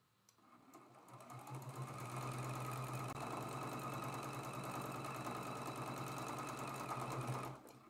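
Sewing machine running a quilt block seam for a traditional maple leaf block, a single steady whirring hum with rapid needle chatter that ramps up, holds for several seconds and then stops, close and alone.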